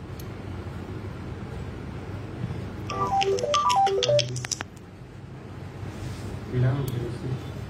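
A short electronic ringtone melody of rising and falling tones plays over steady background hum and talk, then cuts off after a couple of seconds.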